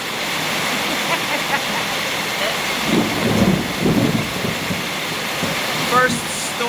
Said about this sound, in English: first storm of the year